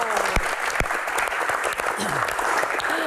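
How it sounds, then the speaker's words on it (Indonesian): An audience at a Q&A with badminton champion Greysia Polii breaks into applause, a dense steady clatter of many hands. A few sharper claps stand out and voices mix in with the clapping. "Oke, tepuk tangan."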